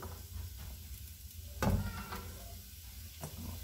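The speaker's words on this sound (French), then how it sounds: "C'est histoire de faire revenir un peu mes oignons, tout simplement." Chopped onions sautéing in a hot pan while cooking lacquered duck with vegetables: a faint, steady sizzle with a brief louder burst of frying as something is stirred or added midway, no voices.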